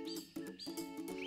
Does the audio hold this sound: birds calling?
yes